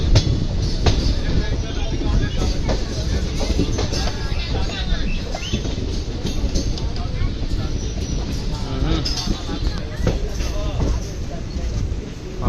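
Pinakini Express, an intercity train hauled by a WAP-4 electric locomotive, rumbling steadily and loudly throughout with faint wheel clatter, heard from on board with voices talking over it.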